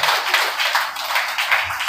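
Congregation clapping steadily during a Sunday worship and praise service in church, a dense, continuous wash of many hands close by, with no clear voices on top.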